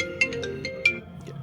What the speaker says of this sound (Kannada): ಅದು ಫೋನ್ ಬರ್ತೈತೆ.